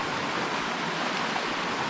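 Piercy Creek flowing along a mountain trail, a steady broadband rush of moving water, close and uninterrupted, with no voices.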